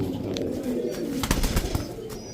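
A silver pigeon coos close by, soft low rolling calls repeating over a brief stretch with faint rustling and a few sharp clicks around it.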